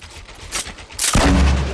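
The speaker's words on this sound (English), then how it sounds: "I'm out of minigun ammo." A minigun in a video game fires in a rapid, dense roar. Short bursts open the clip, then a louder, sustained stream of gunfire runs close and heavy to the end, with no talking.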